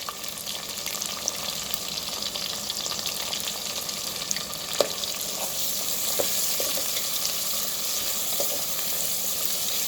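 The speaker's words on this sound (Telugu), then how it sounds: "కొన్ని పచ్చిమిర్చి, అవి వేగే వరకు వెయిట్ చేసి" Green chillies fry in a pan for a country chicken curry, with a loud, continuous sizzle and occasional small pops and crackles.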